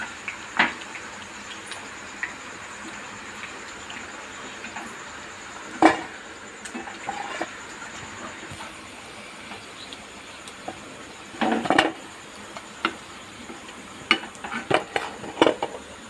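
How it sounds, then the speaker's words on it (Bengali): A slotted spoon lifts fried pakoras out of hot oil to drain. Sparse, light metallic clinks and scrapes sound against a pan, scattered over a quiet background with no talking. "তেলটা ঝরিয়ে তুলে নেব।"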